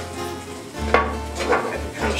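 Orzo pasta stirred in a pot, a brief close scrape and clink of utensil against metal over a low steady hum, with soft sizzling between the strokes.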